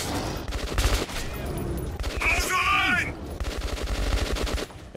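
Rapid, sustained bursts of a mounted turret machine gun in the video game Metro 2033, loud and close, with a short break partway through and then a return to heavy fire.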